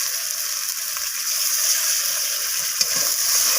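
Spice paste sizzles and fries steadily in a hot pan while cooking rohu fish curry with capsicum, mustard and poppy seed, a bright continuous hiss with faint stirring clicks.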